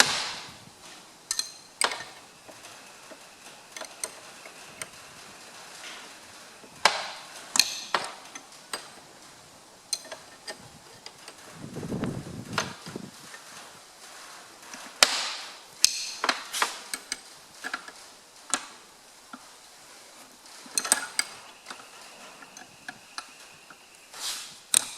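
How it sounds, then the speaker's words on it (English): Wrench work on the lock nut of a Massey Ferguson MF135 tractor's cylinder head during dismantling: scattered metallic ticks and clicks in irregular bursts, with a brief duller rumble midway, close and fairly quiet, no talk. "is loosen the lock nut"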